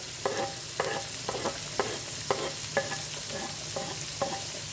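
Finely chopped onion frying in white oil in a frying pan, with a soft steady sizzle and about nine rhythmic scraping stir strokes of a spatula, close and fairly quiet.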